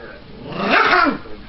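A puppy's low, rumbling growl rising briefly into a louder whiny note, close by and short.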